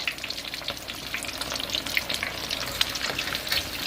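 Shrimp egg foo young patties sizzle steadily in a hot pan while being flipped, a dense, continuous crackle with small spits and pops, close and fairly loud, with no talking.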